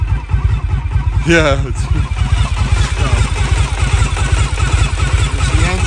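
A Victory V92C motorcycle engine idles after a cold start, a steady close, loud low pulsing throb running throughout while a voice speaks briefly over it.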